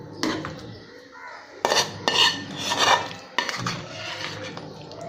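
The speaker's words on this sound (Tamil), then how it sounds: "இப்போ இதை நம்ம ஒரு மிக்சர் ஜாரில் மாற்றிக்கலாம்" Cooled tomato chutney scraped and spooned from a pot into a mixer jar, metal utensil clanks and scrapes against cookware in several close bursts, with brief quieter pauses between.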